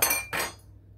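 A metal spoon clinks twice in quick succession against a pan while Oreo cookies fry in oil, bright and close, then fades out.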